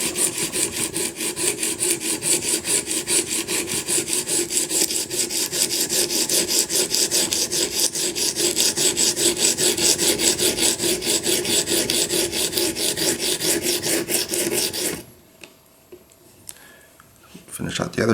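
A knife blade scraped across an 80 grit stone on an Edge Pro Apex sharpener, a steady rapid back-and-forth rasp that runs unbroken for about fifteen seconds, then drops to near silence with a few faint handling sounds.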